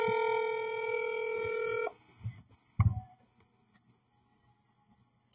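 Outgoing phone call ringback tone: a steady electronic tone holds for about two seconds, then cuts off, followed by a few short soft clicks and silence.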